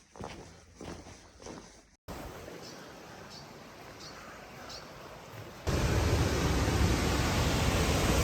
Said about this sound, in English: here we have our first view of the Havasu waterfall